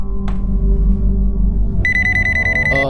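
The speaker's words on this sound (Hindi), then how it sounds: "अदिति यार देखना किसका मैसेज है" A mobile phone message notification tone chimes in a TV crime drama, entering partway through as a bright, repeating electronic ring over a steady low hum, with a short click earlier.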